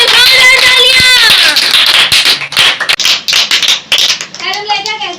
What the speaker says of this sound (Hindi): तालियां बजाओ। शाबाश। अभी कृष्णा के लिए जोरदार तालियां देंगे।